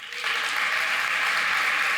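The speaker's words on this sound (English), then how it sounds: "I always talk over the applause, a bad habit." Audience applause at the close of a games-and-learning conference talk, a steady dense clapping that swells in after a brief quieter start and holds evenly, fairly loud and close.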